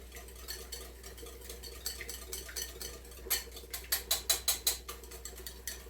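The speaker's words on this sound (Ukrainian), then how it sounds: "Збиваю вінчиком яйце" A wire whisk beats an egg in a bowl for the sour cream mixture of a green borscht, a soft clatter that grows into a quick run of sharp, regular metallic taps toward the end, close and alone.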